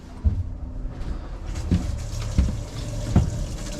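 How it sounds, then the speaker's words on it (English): Water runs from a boat faucet fed by an on-demand pump aboard a 2022 Hewescraft 270 Pacific Explorer, a continuous splashing flow broken by several sharp knocks and clunks nearby. "This faucet works. You just turn that. It's on-demand pump."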